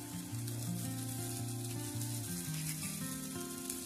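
Tomatoes with salt, red chili powder and turmeric sauté for a spicy soya masala, giving a steady sizzle that runs the whole time beneath prominent melodic background music.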